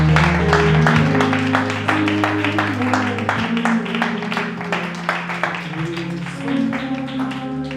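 A church congregation claps and cheers the Lord, a dense wash of applause held under sustained music with voices rising through it, loud and continuous throughout.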